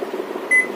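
A 600-watt microwave oven's control panel gives a single short electronic beep over a low steady hum.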